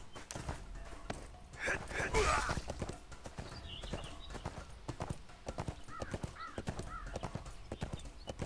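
A horse in the ArcheAge: Unchained online game trots with steady, rhythmic clip-clopping hooves, close and continuous, with a whinny partway through and game ambience underneath.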